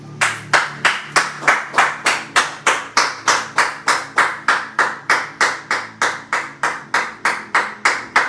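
A church congregation at a French-language worship service claps together in a steady, even rhythm of about two to three claps per second. The claps are loud and close, and a faint low tone hums beneath them throughout.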